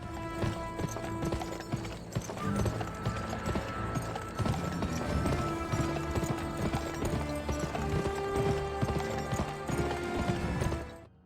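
Horse hooves clip-clopping in a steady rhythm while riding across a landscape in an Xbox 360 launch game, heard under a loud, continuous orchestral soundtrack.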